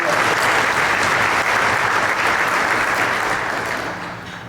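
A crowd applauding at a military salute week event: dense, sustained clapping close and loud throughout, tapering slightly at the end.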